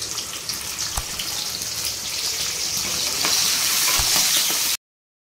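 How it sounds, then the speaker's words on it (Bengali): Capsicum frying in a pan for mixed fried rice gives a steady, close hiss and sizzle that runs unbroken and swells a little louder toward the end before stopping abruptly. "এবার ক্যাপসিকামগুলো সুন্দর করে ভেজে নিই"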